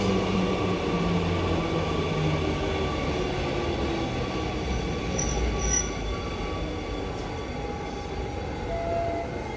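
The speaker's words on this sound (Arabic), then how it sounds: "المترو جاي." A metro train in Amsterdam rumbles steadily into the station, wheels squealing faintly, loud and continuous throughout.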